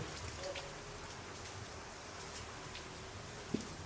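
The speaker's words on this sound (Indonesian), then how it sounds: "cuaca hujan, rintik-rintik, suasana malam di atas gedung." A soft, steady hiss of light rain falls at night on a building rooftop, with faint scattered drips and a single sharp tap near the end.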